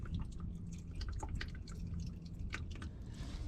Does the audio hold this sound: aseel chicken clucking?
no